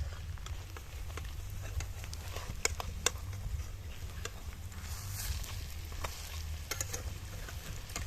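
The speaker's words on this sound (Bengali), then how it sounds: "আর এক পিঠটা সুন্দর মুচমুচু করে ভেজে নেব" Battered mustard flower fritters fry in oil over a stove, giving a faint, steady sizzle with scattered small crackles and pops throughout.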